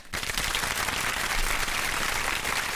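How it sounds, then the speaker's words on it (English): Live show audience applauding, loud dense clapping that starts abruptly and holds steady for a few seconds. "give them another round of applause for that."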